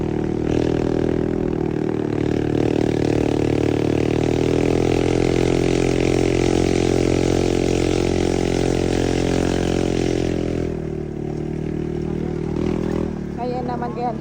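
A motorcycle engine drones steadily and close for a long stretch on a rough mountain road, with rattling over it, then eases off a little near the end.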